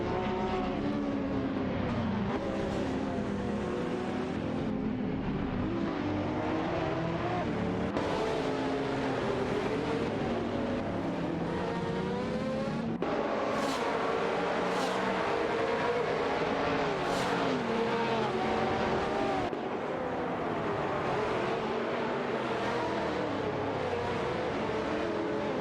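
Racing game cars, a Dodge Viper GT2 and a Panhard Abruzzi GT2, roar continuously and loudly, engines rising and falling through gear changes with a few sharp high whines as cars pass close.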